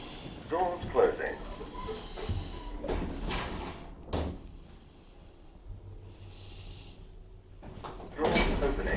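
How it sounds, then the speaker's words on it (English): Train doors sliding shut on a Glasgow subway train, a few scraping thuds and rattles against a low rumbling carriage, with a short chime and voices around it. "Doors closing."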